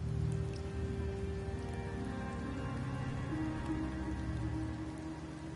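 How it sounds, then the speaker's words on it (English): Steady rain falls in the Septimont area of the video game Wuthering Waves, a constant pattering hiss with a low rumble beneath and no talking. "The rains in Septimont never seem eager to leave this season."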